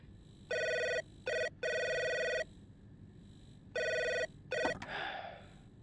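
Telephone bell ringing in the video game Three Minutes To Eight, several loud electronic ring bursts separated by pauses, followed by a brief rustle and gasp.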